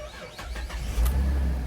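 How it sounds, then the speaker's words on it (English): A Holden VE Commodore engine cranks with a few quick chugs, then catches and settles into a steady low idle. The sound is close and loud, with no talk. "Now we're going to start the car."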